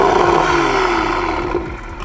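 A Toyota MK5 Supra with a very loud modified exhaust gives a heavy, throbbing rumble, close and sustained with a slight falling pitch over about two seconds, with no voices.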